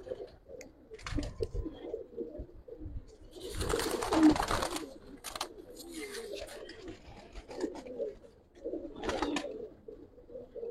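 Giribaz pigeons coo in a loft, soft low coos near at hand coming in intermittent bursts, mixed with rustling and someone talking in Bengali.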